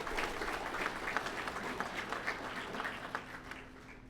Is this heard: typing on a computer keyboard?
no